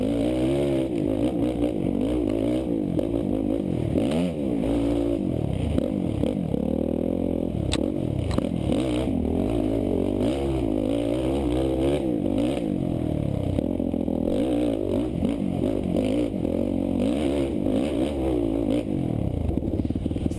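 An ATV engine on a helmet-cam ride at a GNCC race at Power Line Park, a steady close roar that rises and falls as the rider works the throttle, with wind and rattles mixed in throughout.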